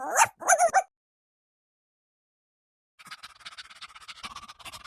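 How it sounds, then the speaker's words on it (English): A dog in the video game The Rift gives a few short yips or barks, followed by a pause and then a stretch of softer whimpering and panting. "do you see the dog? The one that isn't supposed to be here"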